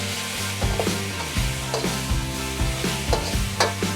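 Beef stir-fries for a Chinese beef and cauliflower dish, sizzling steadily in a hot pan with repeated rhythmic scrapes and tosses of a spatula, close up, with no voices.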